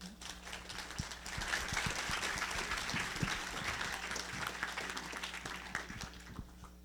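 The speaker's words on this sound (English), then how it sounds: "Please, a round of applause for Ty Patton." A live audience at a Wichitalks speaking event applauds as speaker Ty Patton is welcomed, with steady, dense clapping that stays full and even for several seconds before tapering at the end.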